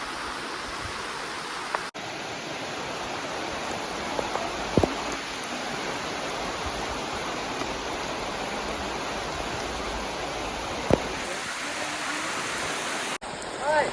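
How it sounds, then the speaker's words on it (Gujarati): Heavy rain pours steadily in an outdoor hilly setting, a dense even hiss throughout at moderate level, with a few brief knocks and clicks. "વરસાદ ફૂલ ચાલુ થઈ ગયો ભાઈ"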